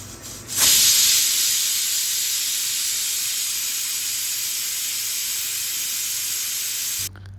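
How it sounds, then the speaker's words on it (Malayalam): A pressure cooker holding pumpkin and red cowpeas with chilli, turmeric, salt, pepper and water gives a loud, steady rush of escaping steam that holds for about six seconds, then cuts off abruptly. "കുക്കറിൽ ഒരു വിസിലടിച്ചെടുക്കുക."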